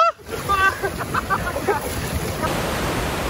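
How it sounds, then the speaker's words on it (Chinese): A powerful waterfall at Lovers' Lake in Pingtung roars as a dense, loud wash of noise, with brief voices and splashy tones in the first couple of seconds before the steady rush continues alone. "因为瀑布水实在太大"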